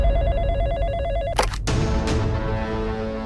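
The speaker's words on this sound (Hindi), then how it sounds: "हम उन्हें फोन करके उस दिन की खबर के बारे में पूछते हैं।" A telephone rings out on a call to a news channel, a repeating electronic ring tone that is cut off by a sharp click partway through, followed by a low hum of the line, with no one speaking.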